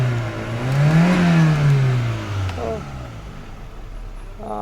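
A Peugeot 406 with the EW10J4 engine revs up near and loud, the pitch climbing then easing back down over a couple of seconds before settling to a quieter hum as a voice talks.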